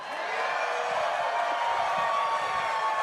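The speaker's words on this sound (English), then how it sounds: "Can we get another cheer from the crowd?" A live crowd at a moon landing broadcast event cheers in a steady, continuous roar of voices, dense and sustained throughout with no single voice standing out.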